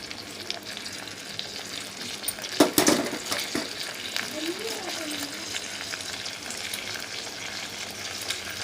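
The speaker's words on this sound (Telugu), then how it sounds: "వీడియోలో చూపిస్తున్నట్లుగా గరిటతో కలబెడుతూ ఉండాలి అప్పుడప్పుడు" A ladle scrapes and stirs peanuts roasting in a pan, a steady soft rustling and sizzling with a few sharper clanks against the metal, continuing throughout at moderate closeness.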